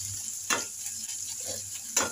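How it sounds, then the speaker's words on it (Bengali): Onions sizzle steadily in very hot oil before bitter gourd goes in, with a constant frying hiss and two sharp bursts of spitting or stirring. "তেল বেশি গরম, তিতকলা ভাজি করবো, দিয়ে দিলাম তেল আর পেঁয়াজ দিয়ে দিচ্ছি"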